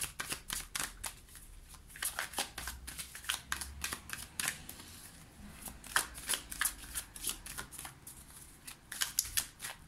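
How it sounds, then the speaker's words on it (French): A deck of tarot cards gets shuffled by hand in quick, rhythmic riffling flutters that repeat steadily, soft and close, with no talking. "Je mélange bien parce que je les ai prises tout à l'heure."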